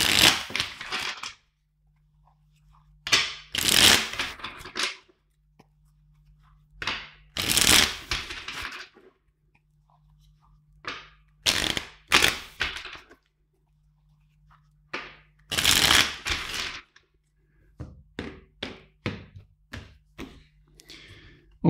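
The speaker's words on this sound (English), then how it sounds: "let's shuffle 5 times the deck" A tarot card deck being shuffled by hand, with bursts of riffling and flicking cards repeated about five times in separate rounds, loud and close, with quiet gaps between them.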